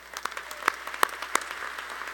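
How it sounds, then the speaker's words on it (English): Scattered applause for student-athletes at the opening ceremony of the RWJBarnabas Health Athletic Performance Center. A few distinct claps stand out from a light, sparse patter that stays fairly faint. "I want to give all of our student-athletes a big round of applause"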